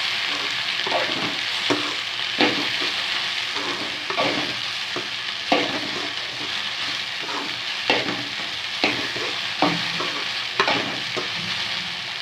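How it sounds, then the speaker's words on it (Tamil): Okra and curry leaves fry in a pan with a steady broadband sizzle, while a spoon stirs through them in repeated scraping strokes every second or so, close and fairly loud, with no one speaking. "ரெண்டு கருவேப்பிலை போட்டுக்கோங்க ரெண்டு வெண்டைக்காய் போட்டுக்கோங்க நல்லா வதக்கி வச்சுக்கோங்க"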